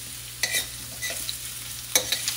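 Star anise sautéing in a pan, a soft steady sizzle under a few sharp scrapes and clinks of a spatula stirring, close by with no speech.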